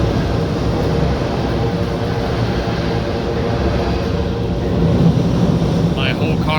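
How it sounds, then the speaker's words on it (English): A train thunders across a bridge directly overhead, heard from a car stuck in construction traffic below: a loud, continuous low rumble and rattle that swells slightly toward the end, with a voice speaking briefly over it. "there is a train screaming past over my head right now"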